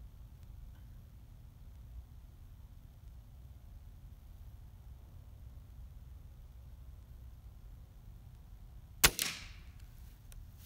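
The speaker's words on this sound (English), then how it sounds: "One more shot." A single sharp gunshot during outdoor target shooting cracks once near the end with a short echoing tail, after a long stretch of quiet background hiss.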